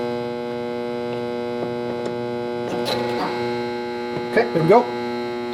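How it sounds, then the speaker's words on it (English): An old Fermitek AC power inverter gives off a loud, steady electrical buzz and hum that runs unbroken throughout, while someone says a few brief words near the end. "Loud buzz and hum, as was seen in that first video. Kind of a noisy inverter"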